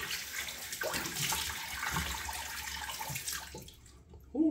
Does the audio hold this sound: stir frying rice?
no